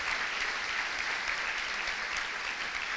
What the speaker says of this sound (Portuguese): Aplauda o Senhor com alegria